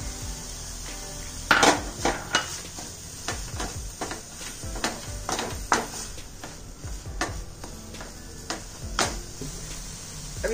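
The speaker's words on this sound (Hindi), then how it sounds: "और अच्छे से मसाला भूनना चाहिए।" Onion masala with crushed green chili and ginger being roasted in a pan, heard as soft, steady sizzling broken by repeated clinks and scrapes of a spoon stirring against the metal, close up with no talking.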